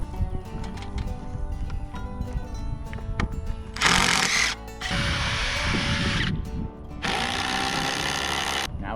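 A power drill drives lag screws into a DIY trellis, with two loud, sustained whirring bursts amid clattering handling noises and background knocks.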